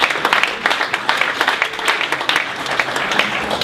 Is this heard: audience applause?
yes